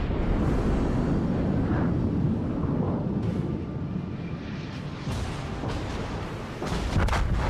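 Main guns of the Yamato battleship firing at a Mogami cruiser in World of Warships, deep rumbling booms that roll one into the next and sustain a heavy low roar throughout.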